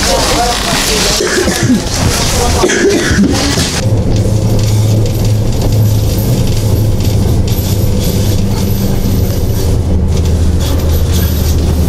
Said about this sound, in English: Finally, we are taking a ride on a Russian tram